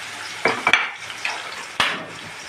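Chopped onion fries in a pan on the stove, a soft sizzle punctuated by a few quick scraping stirs and knocks of a utensil against the pan over a couple of seconds.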